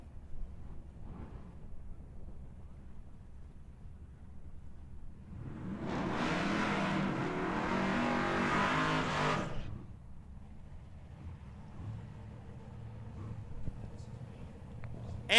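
Two General Motors G-body drag race cars accelerating hard down a strip, a loud roaring burst of engine noise swelling for about four seconds before fading, with drag strip announcing before and after.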